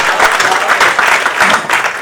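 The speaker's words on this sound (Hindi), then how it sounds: "आपकी तालियां मिलें" A live audience at a Hindi comedy poetry gathering claps steadily and loudly, a dense round of applause that fills the hall with no one speaking.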